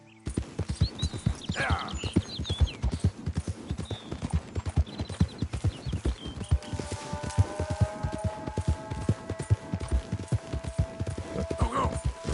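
Horse hooves galloping in Red Dead Redemption 2: a steady, rapid clip-clop of hoofbeats running continuously and up close, with a rider's brief voice and faint ambient tones over the rhythm.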